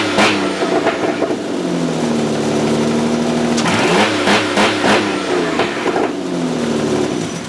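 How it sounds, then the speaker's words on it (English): A straight-piped Ford Escape engine fires up and revs hard several times, its raw, loud exhaust rising and falling between blips and a rough idle, close by and with no speech. "start the car and see how it sounds straight piped"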